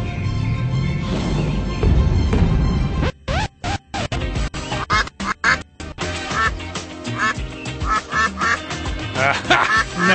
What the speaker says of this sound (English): Nice try, little duck.